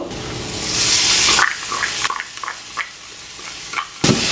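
Dried Maldive fish sizzles in a hot pan, loud at first, then quieter stirring scrapes and small crackles come in short bursts before a final sizzle.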